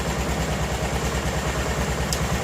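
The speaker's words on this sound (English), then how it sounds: "So it runs and idles fine." A 1988 Club Car golf cart's small engine idles steadily up close, a continuous low rumble with an even pulsing rhythm throughout, no voices over it.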